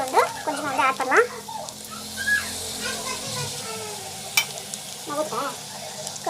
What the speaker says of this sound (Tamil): ஹோம்மேட் கரம் மசாலா ஆட் பண்ணி நல்லா வந்து வதக்கி